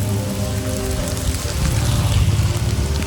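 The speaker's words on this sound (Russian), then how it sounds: "под дождиком давно на велике не катался" Rain falling in Ninh Binh, Vietnam, heard while riding a bicycle, a loud dense hiss of drops on surfaces with a steady low rumble of wind and wheels, no talk.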